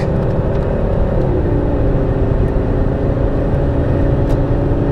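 A Volvo S80 2.4 D5 diesel car under full throttle at high speed, a steady loud engine drone with heavy low rumble and road noise running continuously throughout, no voices.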